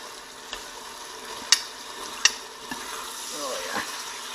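Spices for Indian butter chicken sizzle steadily in a frying pan while being turned, with a few sharp metallic clicks and taps of the utensil against the pan; no talking.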